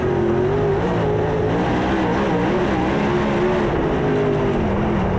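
Dirt track race cars roaring past the start-finish line during a summer nationals race, a loud continuous engine drone with rising and falling pitch as the cars pass close by.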